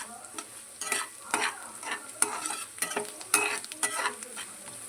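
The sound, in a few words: turmeric sizzling and stirred in pan for lemon rice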